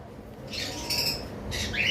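Cockatiels at a bird farm give two shrill, harsh squawks, loud and close, over a low background hum.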